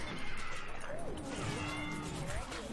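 Cartoon kitties meow in the LEGO Minifigures Online video game, gliding cat calls rising and falling over a busy bed of game effects and music, with a voice talking briefly underneath.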